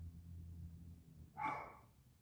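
A dog lets out a single sharp bark about halfway through, close and fairly loud after a low steady hum, then the sound fades away.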